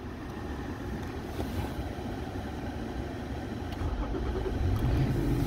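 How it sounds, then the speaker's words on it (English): A Toyota truck at a dealership in Lexington, Kentucky, started with the push-button, giving a steady engine rumble that builds slightly louder toward the end, with no voices. "And the truck will start."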